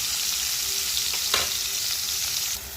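Parboiled bitter gourd frying in hot oil, a steady close sizzle with one sharper stirring scrape midway before the sound drops slightly at the end.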